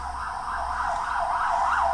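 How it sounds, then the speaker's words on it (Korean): An ambulance siren wails steadily nearby, its rising and falling tone loud and continuous under traffic rumble, heard during a Korean horse racing commentary broadcast. "앰뷸런스가 또 지나가네요."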